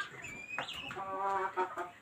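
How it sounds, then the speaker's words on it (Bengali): Chickens, including Brahma and the type called chila, at a poultry seller's, giving a short run of close, fairly quiet clucks and squawks with no voices. "দেখুন এগুলোকে বলা হয় তিথি অথবা চিলা মুরগি"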